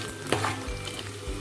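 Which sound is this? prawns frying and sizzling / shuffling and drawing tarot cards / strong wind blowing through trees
prawns frying and sizzling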